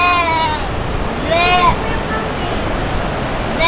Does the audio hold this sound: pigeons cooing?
no